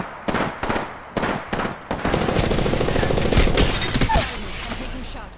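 Heavy automatic gunfire from an Apex Legends firefight, starting as a few sharp separate bursts and then turning into a dense, continuous loud barrage with cracks and impacts layered on top.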